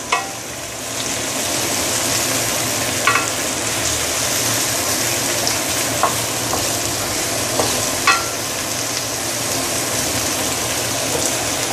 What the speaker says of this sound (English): The reason why I'm putting the prawn right now is because any seafood that comes with shell, you want them to have some direct contact with your hot oil